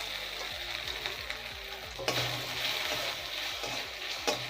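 Grated ginger drops into hot oil with bay leaves in a pan, frying with a steady close sizzle and a few louder bursts of crackle, no talking.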